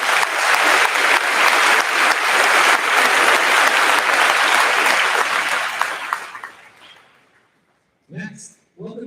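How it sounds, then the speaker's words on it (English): Loud, sustained audience applause fills a high school graduation ceremony, dense clapping that fades out after about seven seconds, followed by a few brief spoken words. "Let's give him a round of applause."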